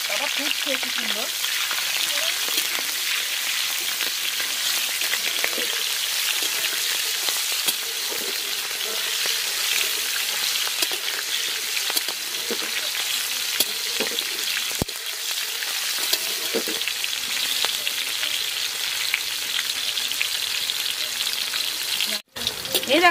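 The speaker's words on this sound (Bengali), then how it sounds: "ফুটছে কি সুন্দর" Slit green chillies frying in oil for a Bengali chicken curry at a pondside picnic, a steady close sizzle with scattered pops and stirring scrapes running unbroken.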